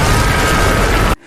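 A loud, dense burst of broadband noise as two detached train carriages explode, sustained for about a second, then cut off abruptly into near silence.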